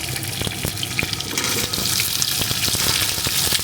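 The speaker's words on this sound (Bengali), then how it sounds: "এগুলো সব কিছুর সাথে একটু ভেজে নেব" Pumpkin pieces frying in a pan alongside pointed gourd for a vegetarian pumpkin-potato curry, giving a steady, close wet sizzle with faint clinks throughout and no talk.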